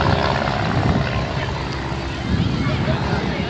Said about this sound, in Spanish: Ahí están los otros aviones que están a punto de despegar.